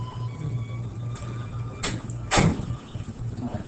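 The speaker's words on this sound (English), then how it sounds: "Start recording and closing the door for right now." A classroom door swings shut, making two sharp thuds over a low background hum in a quiet room.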